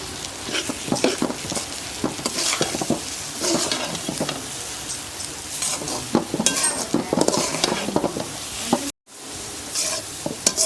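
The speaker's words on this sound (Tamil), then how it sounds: "இது அடி பிடிக்காமல் கிளறிட்டே இருக்கணும்." Chana dal paste stirred continuously in a hot pan with oil for laddoos: brisk, loud spatula scraping and sizzling, with a brief gap near the end before the stirring resumes.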